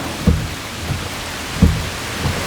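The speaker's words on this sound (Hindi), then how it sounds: "वो तुम इधर खड़ी हो बस स्टैंड पर, बारिश हो रही है" Rain falls at a bus stop, a steady hiss of drops on the surface with a few dull heavier thumps breaking through, fairly loud and close, with no talking.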